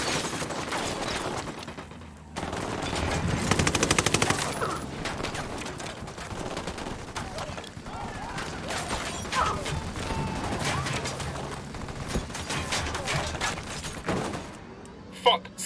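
Gunfire rattles through a firefight in Ghost Recon Wildlands, dense bursts of rifle and machine-gun shots with impacts and clanks, under intermittent voice chatter from squad members.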